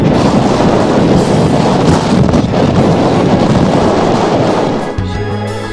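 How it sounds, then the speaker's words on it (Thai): Strong, cold wind buffets and roars across the microphone without a break on a mountain cliff at about 1,200 metres at Khao Soi Dao Tai, Chanthaburi, loud and close, easing slightly near the end. "ช่วงเวลาที่เราขึ้นมานั้นสภาพอากาศจะหนาวเย็น และลมพัดแรงมาก"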